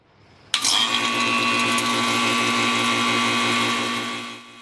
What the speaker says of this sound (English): make sure the manifold valves are closed, then turn on the vacuum pump